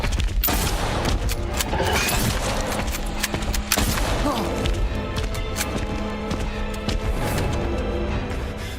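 Rapid bursts of gunfire ring out in a video game, dense and loud, with sharp shots and booms continuing throughout, layered over game sounds and occasional speech.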